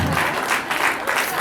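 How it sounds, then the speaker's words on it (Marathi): Audience applause at a Marathi school Diwali programme, steady dense clapping filling the whole stretch with no pauses and no voices over it. "टाळ्या चालू द्या."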